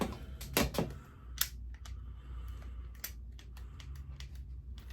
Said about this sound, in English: you can 1 click, or you can swing all the way out and do a 2 click and shift twice